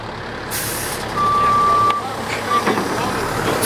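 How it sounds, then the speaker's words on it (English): A Parks and Rec dump truck reverses outdoors, its steady backup beep sounding as one long tone and then a short one over broadband engine and traffic rumble, with voices in the background. "they pull it with a Parks and Rec dump truck"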